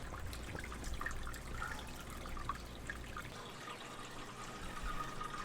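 Water overflows from an aquarium tank into a sump in a fish room, a soft continuous trickle and gurgle over a low hum, fairly quiet and steady, with no speech.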